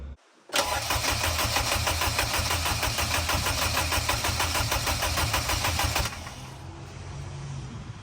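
A turbocharged Acura RSX with a side-winder turbo manifold cranks briefly and fires, then runs loud and steady at close range for several seconds before dropping to a quieter idle.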